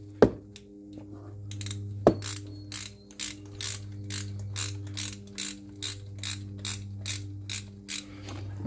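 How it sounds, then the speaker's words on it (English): A ratchet with a 13 mm deep socket works a fuel rail stud loose on a 1995 Jeep Wrangler, with rapid repeated clicking pawl strokes in close, regular bursts, two sharp metallic clanks near the start, and a steady low hum beneath. "So we're going to try this 13 millimeter deep socket."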